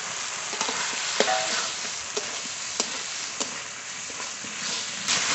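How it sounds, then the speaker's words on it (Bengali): Fried potatoes are stirred into a spice paste cooked in oil in a pan for a fish curry, with a steady close sizzle and regular scraping strokes of a spatula, no talk. "মশলার সঙ্গে আলু একটু কষিয়ে নিয়েছি"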